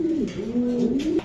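A racing pigeon, a young bird, coos close by in a single continuous rolling call, loud and clear with no talk.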